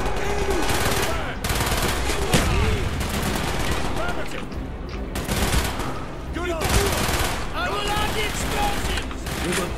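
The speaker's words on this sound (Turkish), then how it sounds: "Bir de silah mı sıkıyorsunuz utanmadan?" Dense, sustained gunfire from Call of Duty Black Ops, rapid automatic bursts and overlapping shots rolling continuously and loudly, with a few brief lulls between volleys.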